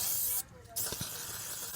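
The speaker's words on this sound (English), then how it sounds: "Let it sit, spray it liberally again." Cleaner is sprayed onto a car's throttle body in two close, loud hissing bursts, one long and one a bit shorter, separated by a brief pause.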